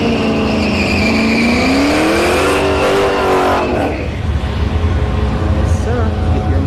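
At a drag strip, a Dodge Charger and a BMW X6 race with a loud, rising engine roar and a whining pitch that climbs and then drops away, followed by steady crowd and engine noise.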